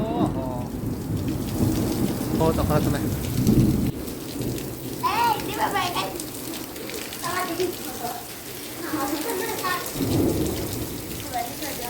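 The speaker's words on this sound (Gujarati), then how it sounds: "પાણી આવ્યું વરસાદ આવ્યો બધું" Heavy rain falls in a steady roar with rumbling thunder during a lightning storm, loud and near, while people talk and exclaim over it.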